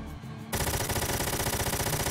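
A mech in the strategy game Front Mission 4 unleashes a barrage of gunfire: after a quiet moment, a loud, rapid, evenly pulsing stream of shots hammers on steadily to the end.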